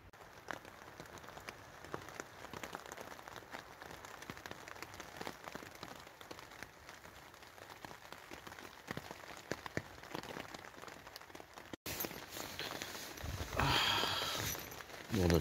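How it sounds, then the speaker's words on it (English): Rain patters steadily on a hammock camp deep in a Scottish forest, soft and even at first, then a sharp click and closer, louder rustling toward the end. "As you can tell, it's raining."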